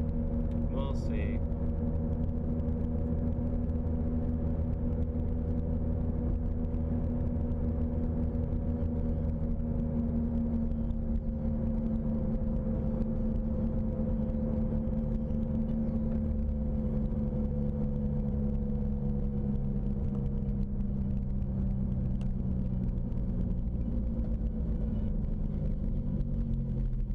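Car engine drones steadily from inside the cabin while driving in heavy traffic, a constant low rumble with a slowly sliding engine tone, with talking over it.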